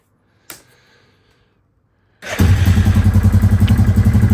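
A Yamaha Grizzly 660 ATV, picked up broken and repaired, gives a thump and then starts up and runs loud and close with a steady pulsing engine note during a quick ride.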